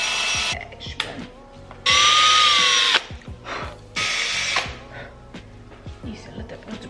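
A power drill bores holes in wooden shelves being built for a campervan, with several short, loud whirring bursts separated by clunks and handling knocks. Someone speaks between the drilling.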